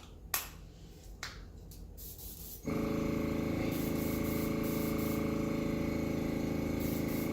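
An airbrush loaded with latex paint starts with a few short puffs, then settles into a steady, continuous hissing spray close to the microphone.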